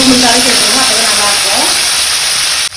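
Small onions with dried and green chillies sautéing in hot oil for Madurai-style sambar, a loud, steady sizzle and crackle up close that runs throughout and cuts off abruptly near the end.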